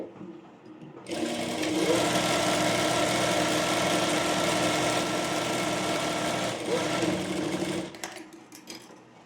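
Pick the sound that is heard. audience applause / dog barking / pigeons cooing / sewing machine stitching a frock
sewing machine stitching a frock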